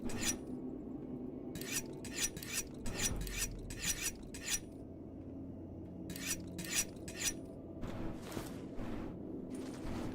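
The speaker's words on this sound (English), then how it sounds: "I just take my sharpener and sharpen up the ones that I have." Knife blades drawn across an old whetstone sharpener: bursts of quick scraping strokes, some in rapid runs of three or four, then longer rasping passes, close and fairly quiet with no talk.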